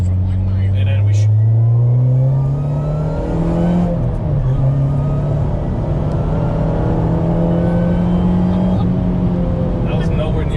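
A 350 hp supercharged Honda Civic driving, its engine droning loud and close with rising and falling pitch as it accelerates, a steady cabin roar with faint talk underneath.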